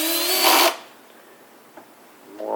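A power drill with a Vix bit bores a pilot hole for a drawer slide in one loud, whining burst of under a second, then stops, leaving quiet with a faint knock.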